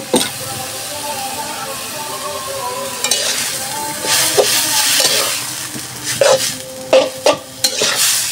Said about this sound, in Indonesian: lalu bihunnya kita masukin. Tuh baraya si bihunnya dimasukin, lalu kita campurkan, diaduk-aduk hingga matang